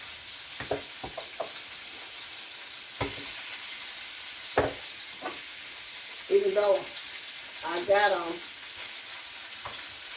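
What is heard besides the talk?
stirring chicken skin frying in a skillet with a wooden spoon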